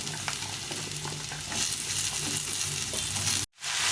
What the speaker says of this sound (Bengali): মাছগুলো ভাজা হয়ে গেছে, তেল গরম হয়ে গেছে, এখন তরকারি ছেড়ে দেবো